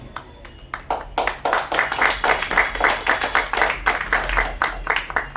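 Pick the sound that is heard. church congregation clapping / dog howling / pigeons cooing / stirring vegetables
church congregation clapping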